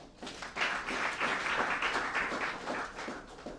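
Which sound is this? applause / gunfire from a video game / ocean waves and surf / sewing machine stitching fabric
applause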